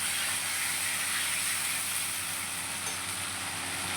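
Spice paste with salt and turmeric sizzles as it is sautéed over a very low gas flame for a Bengali duck egg curry, a steady, close, even hiss that runs on without break.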